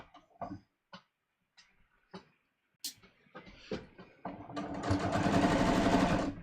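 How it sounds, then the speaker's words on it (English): Sewing machine basting a jeans seam along chalk lines with double thread: a few short stitch bursts and handling clicks early, then a steady, fairly loud continuous run of stitching for the last couple of seconds. "I'm stitching just inside my chalk lines"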